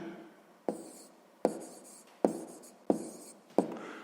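A pen or pencil writes out the answer to a sixth-grade math exercise on paper, heard as five distinct scratchy strokes in a slow, uneven rhythm, close and quiet.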